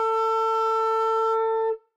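Flute prepared with cigarette paper over a vented A key, one steady sustained note with a buzzing, rattling edge, played alone and close, cutting off cleanly after under two seconds.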